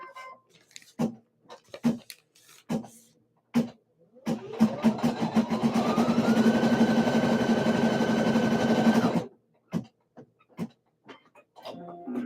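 Sewing machine stitching a straight-stitch design onto a shirt, a steady mechanical whir running continuously for several seconds at close range, with rising pitch as it speeds up, preceded and followed by short separate clicks and taps.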